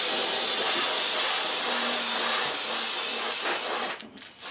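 Continuous airbrush or spray-paint hiss while coating a trout-pattern jerkbait lure with paint, steady and close for about four seconds before cutting off, with no talking.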